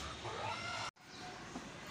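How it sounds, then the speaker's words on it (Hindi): A farm hen clucking after laying an egg, with a few close, moderately faint clucks over a continuous background hiss, briefly interrupted by a short gap in the middle. "ये मुर्गी हमारी, इसने आज माशाल्लाह अंडा दिया है।"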